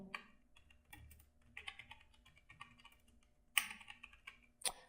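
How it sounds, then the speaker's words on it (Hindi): Keys clatter on a computer keyboard as a short phrase is typed into Word, quiet irregular taps with a couple of sharper, louder strikes toward the end. "मैं यहाँ पर बेसिक कंप्यूटर स्किल टाइप करता हूँ"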